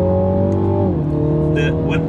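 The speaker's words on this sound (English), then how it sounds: "I'm impressed with the noise of this thing and the way it shifts, because it's 8-speed, isn't it?" Engine of a 2020 Mini Clubman John Cooper Works with an 8-speed gearbox, droning steadily as revs climb and then drop at a gear change, with a voice talking over it throughout.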